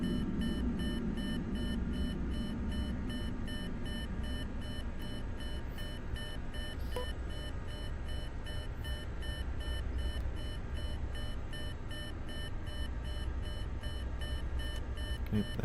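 A continuous train of rapid cockpit warning beeps in Microsoft Flight Simulator 2024 pulses steadily and evenly for the whole stretch, loud and unbroken over a low engine drone.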